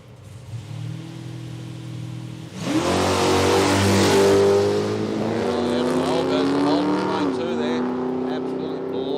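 Drag race cars roar off the line at Palmyra Raceway, engines rising sharply to a loud sustained howl with shifting pitch as they accelerate away, preceded by a quieter idle.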